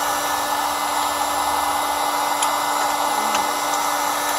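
A heat gun blows a steady, even whoosh with a constant motor whine while it heats the stock tube nut on a Benelli M4 shotgun, loud and close the whole time.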